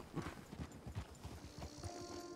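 Horse hooves clip-clop at a steady trotting rhythm in Red Dead Redemption 2, faint and regular, heard during hunting near Valentine.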